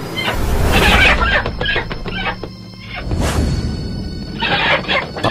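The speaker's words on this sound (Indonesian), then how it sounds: "beriringan dengan suara ronta kiak ayam" Chickens squawking and thrashing in a coop as a horror audio drama sound effect, with loud frantic squeals, flapping and crashing bursts that come and go.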